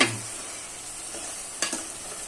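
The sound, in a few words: stirring chicken fry in a pan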